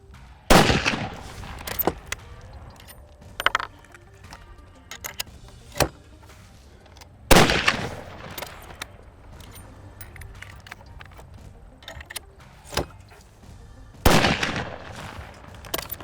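Three sharp rifle shots fired at a paper target on a range, spaced several seconds apart, each a loud crack with a short echo, with faint clicks and handling noises between them.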